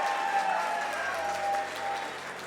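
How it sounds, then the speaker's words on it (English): An esports championship crowd claps steadily throughout, a dense wash of applause at constant loudness with no break. "Can I get one final round of applause for everyone who competed today?"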